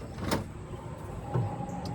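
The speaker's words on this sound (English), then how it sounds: "Now let's open the door" Automatic sliding door on a 2004 Honda Odyssey opening, a steady motorized whir with a brief clunk near the start and another soft latch knock midway, close by and with no talk.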